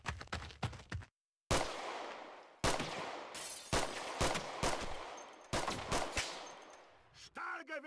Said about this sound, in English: Oh, there's a freaking MG. Oh my god, there's a Browning line down here.